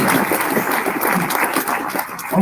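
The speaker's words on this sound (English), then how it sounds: "Please give him a round of applause." An audience at a civic launch event breaks into steady, dense clapping that carries evenly throughout at close range.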